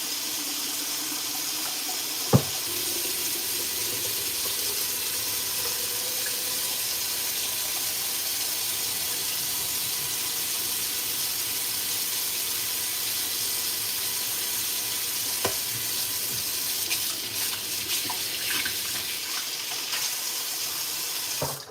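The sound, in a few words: dishwater running from kitchen sink tap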